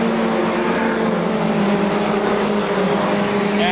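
Formula 4 race cars running three wide at Seekonk Speedway, a loud, continuous engine drone with sustained whining tones as the pack thunders past together, close and unbroken.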